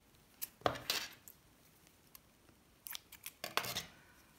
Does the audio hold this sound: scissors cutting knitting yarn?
yes